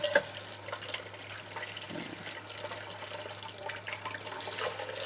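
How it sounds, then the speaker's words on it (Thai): Salty preserved Chinese olives being rinsed in water, a steady wash of running and splashing water in a kitchen sink with a low steady hum beneath, no talking. "ผ่านน้ำให้ผ่านน้ำประมาณนี้เดี๋ยวก็หายเค็มแล้วค่ะ"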